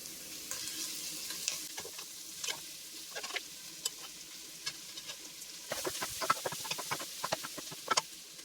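Pork belly and garlic sizzle in a hot pan, with a steady crackling hiss broken by sharp spatters and scraping stirs that bunch up toward the end.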